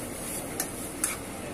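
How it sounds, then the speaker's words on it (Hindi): Spice masala with fennel powder, asafoetida and salt being stirred and roasted over medium heat, a faint soft sizzle with two brief metallic ticks of a spoon against the pan. "अब हम इस मसाले को अच्छे से मिलाएंगे और भूनेंगे।"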